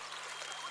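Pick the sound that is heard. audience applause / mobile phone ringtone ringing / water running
water running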